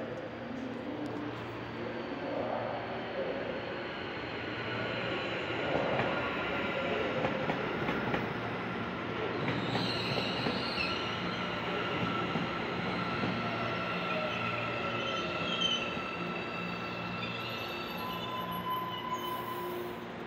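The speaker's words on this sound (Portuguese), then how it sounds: "esse trem que vai chegando aqui, ó, tá indo para Jundiaí" Train pulling into Anhangabaú metro station in São Paulo on a line toward Jundiaí, a steady rumble and rail noise with squealing wheels and clatter, fairly close and continuous for the whole stretch, no talk.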